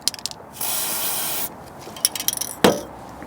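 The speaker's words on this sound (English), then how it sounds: "Our white lithium grease." A spray can of white lithium grease hisses in one steady burst lasting about a second, up close, during work on a new battery in a Land Rover Freelander 2. Short clicks and rustles come before and after, and one sharp knock follows.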